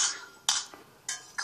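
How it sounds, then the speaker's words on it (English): Three or four short, sharp hand claps in a children's sing-along, spaced out in a simple beat with quiet gaps between them. "clap your hands, clap your hands"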